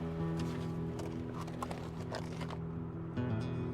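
A horse's hooves clip-clop steadily at close range in freezing mountains, a quick irregular rhythm of hoof strikes with a low hum underneath.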